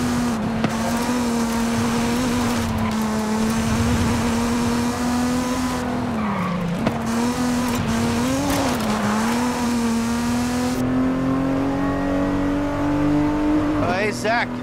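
A Mazda Miata's engine drones at steady revs in Forza Horizon 5 while driving through a dark forest at the base of a volcano, a loud continuous hum with slight pitch dips and a closing rise.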